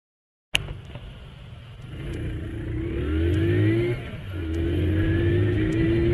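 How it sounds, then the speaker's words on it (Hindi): Honda CD 70 motorcycle fitted with an external air filter, starting abruptly and accelerating from standstill to 60, its close engine note rising through the gears with a brief dip between shifts. "हम चेक कर लेते हैं कि जो हमारी बाइक है ये 0 से लेकर 60 तक जो है वो कितनी देर में कवर करती है।"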